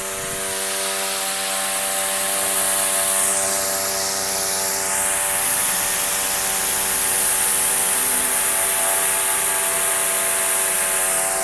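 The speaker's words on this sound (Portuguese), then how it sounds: "A ferramenta aqui que a gente está utilizando é uma serra tico-tico pneumática" A pneumatic jigsaw cutting through an Audi TT plastic car bumper makes a loud, continuous buzzing whine with a strong hiss of air, the pitch dipping briefly partway through as the blade works.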